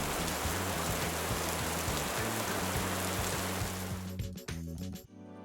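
Rain falls in a steady hiss over a repeating low tonal pattern, then breaks into choppy stutters and cuts to silence near the end.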